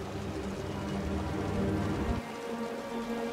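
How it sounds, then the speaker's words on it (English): Heavy rain pours in the video game Wuthering Waves, a dense, steady hiss of drops on surfaces with a low rumbling undertone that drops away sharply partway through. "The rain's getting heavier."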